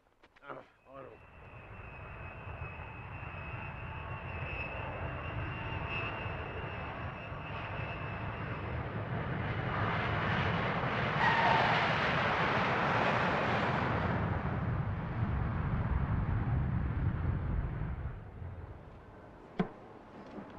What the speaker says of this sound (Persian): پرواز 720 هواپیمای جمهوری اسلامی از فرانکفورت به زمین نشست.